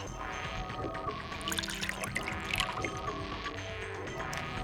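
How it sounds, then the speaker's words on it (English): Saline solution poured in a video game, a soft continuous liquid trickle with light splashy flutters, fairly quiet and steady for a few seconds without voices. "I'll just pour the saline solution"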